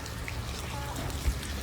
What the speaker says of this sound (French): tout ce que je déteste, c'est les jours de pluie comme ça